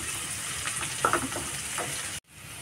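Onions and soaked cashews frying gently in a pan, a steady close sizzle with a few soft crackles, cutting off abruptly near the end.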